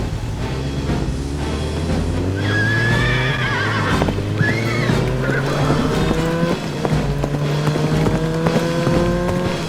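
A horse whinnies loudly against a steady, droning engine-like rumble, with clattering and shifting tones underneath and no voices.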